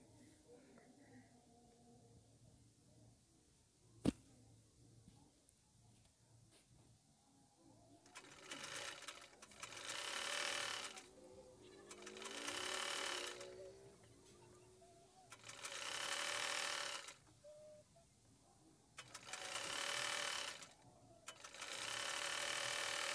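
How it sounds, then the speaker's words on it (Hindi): A sewing machine stitches a pant seam in several long runs of fast, steady whirring, separated by short pauses, close and fairly loud after a quiet start. "चलिए दोस्तों अब इसकी सिलाई करते हैं"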